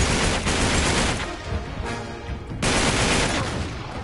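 Dense gunfire fills a Nathan Drake Collection firefight, loud and continuous bursts with a brief dip then a sharp renewed volley near the end.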